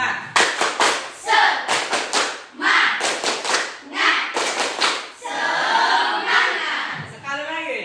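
A school class performing a rhythmic clapping chant: crisp clusters of group hand claps in patterned beats alternate with voices chanting in unison, ending in a longer shouted group cry.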